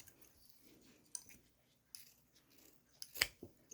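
Scissors snip through chunky giant yarn and velvet yarn during a knitting project, a few short sharp cuts against quiet rustling, with no talking.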